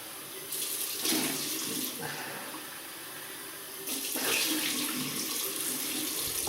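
Water running from a bathroom tap in bursts while a 1958 Gillette D1 Blue Tip double-edge razor is rinsed, a hissing splashing stream that swells twice and eases between, fairly quiet and close.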